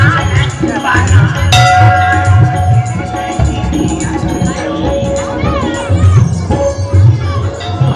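A large crowd of devotees throngs a Ganesh temple courtyard in Jabalpur during the Ganesh festival, a dense steady babble of many voices with bells and shuffling, close and loud.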